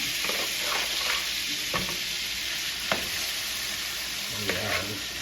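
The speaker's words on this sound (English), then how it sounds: "I'm gonna start adding some of this venison to this and get this browned up" Venison browns in melted butter, sizzling steadily and close throughout, with several sharp stirring scrapes and pieces being moved in the pan.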